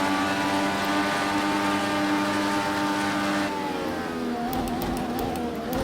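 A race car engine drones loudly and continuously along the back straight of a racing video game set at Indianapolis, holding a steady high-revving tone before shifting pitch as the speed changes.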